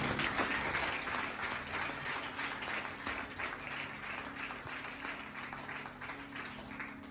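A church congregation breaks into sustained applause, a dense wash of clapping that starts strong and eases slightly while continuing to the end.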